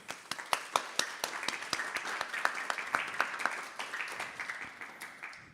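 A modest audience at a temple talk claps in a fairly quiet, scattered patter of many individual hand claps, steady and moderately close for several seconds.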